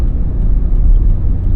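Small car with a CVT transmission driving along, a low steady rumbling drone from the engine and road heard from inside the cabin, loud and continuous.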